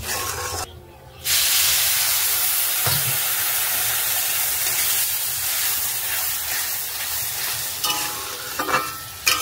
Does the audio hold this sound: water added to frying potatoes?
yes